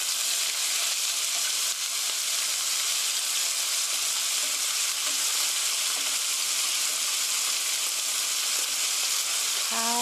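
Chicken and mushrooms stir-frying in a pan, a steady close sizzle with faint scraping of stirring throughout, no talking.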